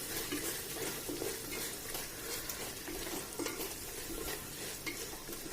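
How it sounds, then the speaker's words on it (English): Fried onions with coriander and mint leaves fry in a mutton dal gravy, a dense steady sizzle with faint stirring clinks throughout, fairly quiet and without speech. "And I'm going to fry this again for some time."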